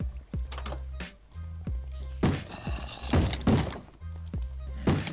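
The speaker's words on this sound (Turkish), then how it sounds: "Kapılara zombiler vuruyor lan." In the game Minecraft, zombies bang on wooden doors: a series of heavy, hollow thunks at an irregular pace, some clustered, over a low droning game background with no speech.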